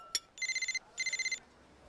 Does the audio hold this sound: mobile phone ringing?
yes